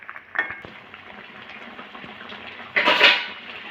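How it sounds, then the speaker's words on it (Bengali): Egg curry gravy in a pot, with low bubbling under a couple of clinks of a utensil against the metal and a louder burst of sizzle and stirring near the end; no speech. "ঝোলটা ফুটে গেছে, ডিমগুলো দিয়ে দেবো। এটা আমি একটু ফুটিয়ে নেব।"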